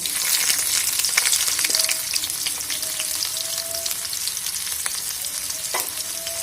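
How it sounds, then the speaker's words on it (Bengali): Chopped onion fries in oil with whole cumin and dried red chillies, a loud dense sizzle that holds steady throughout, punctuated by quick stirring clatters and scrapes, close-up with no voices. "কিছুক্ষণ ভেজে নেব পেঁয়াজটা"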